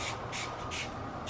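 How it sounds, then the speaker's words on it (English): Car cleaner misted from a trigger spray bottle onto car paint before a ceramic coating, three or four short, soft hissing bursts in quick succession, faint and close, with no talk. "I'm going to spray this liberally on here."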